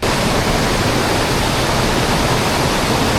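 Huay Kaew waterfall near Chiang Mai roars in a loud, steady, close wash of falling water that fills the whole stretch without a break.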